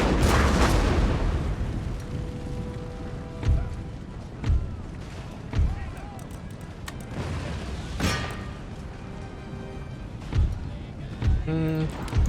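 Cannon artillery volleys boom in the strategy video game Empire: Total War, a series of spaced, punchy blasts over about twelve seconds, set under ongoing battle ambience with a voice talking over it.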